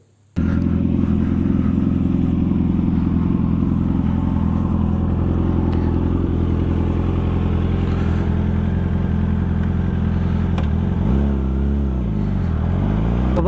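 Benelli motorcycle on a ride, its engine humming steadily and loud with a low drone and mid-range roar, a brief rev change near the end, no talking.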